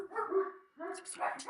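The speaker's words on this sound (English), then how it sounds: "Sorry, there's 8 dogs." A household with eight dogs barking in short, close, loud yaps and yips, overlapping with one another in quick bursts.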